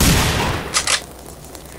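A gunshot in The Hidden video game, a loud booming blast that decays, followed by a couple of sharp bursts.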